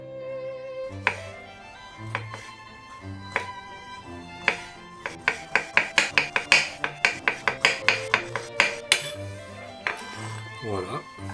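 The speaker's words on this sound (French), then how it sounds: "Je vais alors couper mes truffes en lamelles." A sharp knife slices truffles into thin slivers on a cutting board. The cuts start as a few separate strokes and then become a quick, steady run of crisp, close chops, with faint musical tones in the background.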